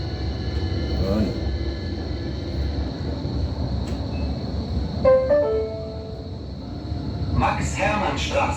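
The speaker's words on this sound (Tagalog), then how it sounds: "Train na yan." A train runs between stations on a rail line, giving a steady rumbling roll with tonal whines and a few brief squeals and clanks. A voice is heard partway through.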